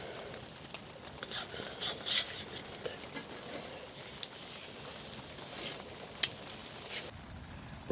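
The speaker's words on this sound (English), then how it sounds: "So I'm gonna fry these now, and there is the bacon." Bacon frying in a pan at a campsite gives off a faint, steady sizzle, a soft hiss with occasional small pops and no talking.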